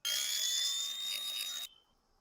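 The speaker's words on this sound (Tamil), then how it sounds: "அதுக்கு மேல கொஞ்சம் கிரைண்டிங் பண்ணி விடணும்." A grinder runs briefly on a lithium battery during a repair, giving a short, bright, high-pitched whine of about one and a half seconds that stops abruptly, heard up close.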